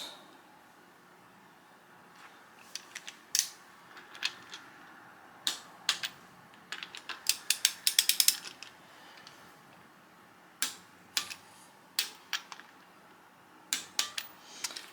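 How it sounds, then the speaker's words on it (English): A torque wrench ratchets down intake manifold bolts on a Miata engine, with scattered sharp metallic clicks in short bursts and pauses against a quiet background. "We're going to torque it to 25 foot-pounds."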